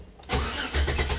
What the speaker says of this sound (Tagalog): long cranking